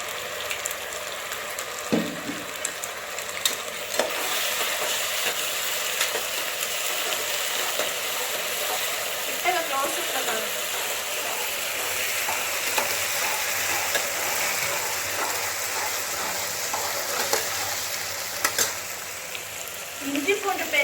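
Ginger garlic paste fries with softened onions in a pot for tomato rice: a continuous bright sizzle with occasional stirring scrapes and clicks, close and steady.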